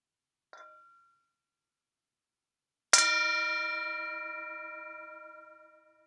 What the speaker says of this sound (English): after the bell, we'll have a moment of silence